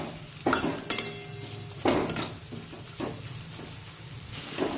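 Crushed garlic and onion sauté in a pan with a soft continuous sizzle, broken by several sharp clinks and scrapes of a spatula stirring against the metal; no speech.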